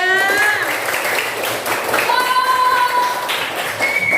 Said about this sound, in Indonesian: tepuk tangannya semuanya.